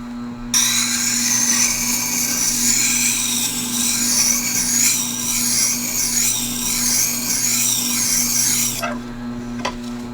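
A Stanley Bedrock 605 plane blade is ground on the coarse side of a sharpening stone, giving a loud, steady whirring grind with wavering tone for about eight seconds before it cuts off.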